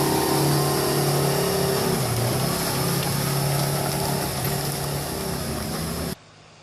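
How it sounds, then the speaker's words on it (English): A heavy 10-ton military truck engine labours steadily as it creeps through a deep quagmire, a loud continuous drone with low rumble and tonal hum that holds for about six seconds before cutting off abruptly. "he slowly drove his 10-ton truck through it"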